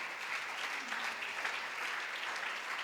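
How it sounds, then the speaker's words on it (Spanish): A congregation at a Spanish-language Saturday church service gives a strong round of applause in worship, with a steady wash of many hands clapping at an even level throughout. "Dele un fuerte aplauso al Señor esta mañana"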